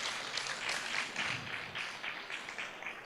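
Audience applause at an innovation concert during a 2015 public service job fair in Korea: dense, even clapping from a crowd, moderately distant and sustained without speech.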